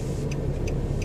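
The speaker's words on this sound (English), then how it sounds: "No, too much traffic now. I don't know why so many cars." Road traffic with cars passing, a steady broadband rumble of engines and tyres heard from nearby, continuous throughout with no talk.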